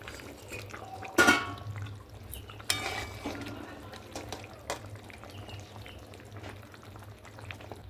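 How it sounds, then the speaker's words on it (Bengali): Bachal fish pieces go into a pot of simmering fish curry with soft potatoes. A quiet bubbling bed is broken by a couple of sharp splashes and clinks early on, then low simmering continues with no talk. "এবার আমি এর মধ্যে মাছগুলো দিয়ে দেবো।"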